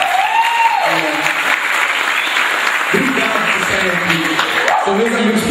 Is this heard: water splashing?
no